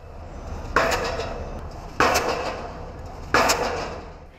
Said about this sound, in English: It's the sound of pile driving.